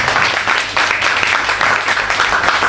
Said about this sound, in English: Please join me giving a big applause to these people.